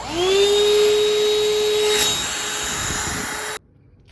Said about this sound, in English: I keep this little hand-sized vacuum handy because, like I said, this is disastrously messy.